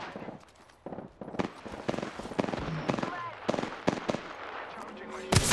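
Gunfire in Apex Legends: rapid bursts and single sharp shots, some automatic, come loud and close in an uneven rhythm, with a voice speaking between them.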